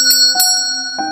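A bright bell rings in three quick metallic strikes, each leaving a long, sustained ringing tone, loud and close with nothing else behind it.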